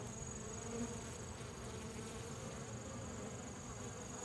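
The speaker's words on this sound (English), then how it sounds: "They're fighting. That bee is not supposed to be there, and she's paying the price." Dense, steady buzzing of many bees fighting at a hive entrance fitted with an entrance reducer fills the air, a close continuous drone with no talking.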